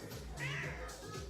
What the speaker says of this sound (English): That's my cat, Dallas.